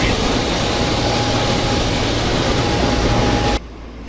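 A Boeing 737 jet taxis onto an open parking stand at Branson airport. A loud, steady engine roar with a high whine holds close by and then drops off abruptly near the end.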